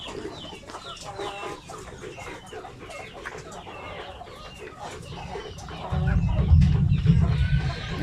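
Several chickens being raised for meat cluck and murmur nearby in their coop in a busy, continuous chatter, joined by a low rumbling hum toward the end.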